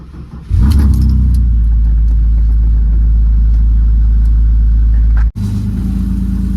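A BMW E46 drift car with a turbocharged M42 four-cylinder cranks and nearly catches, a loud, close, steady low churning that runs for about five seconds, cuts out abruptly, then resumes briefly, with no talking.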